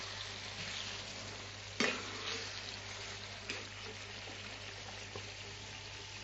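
Tomato pickle sizzles softly in a pan with turmeric as it is stirred, a steady low frying hiss broken by a few sharp scrape and clank knocks of the spoon against the pan.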